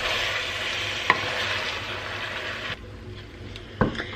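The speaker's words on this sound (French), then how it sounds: "Et donc on remue bien le tout." Meat being stirred with tomato paste and harissa in a pan for Tunisian nwasser, a steady soft sizzle and scraping under the spoon, with a couple of sharper utensil clinks against the pan.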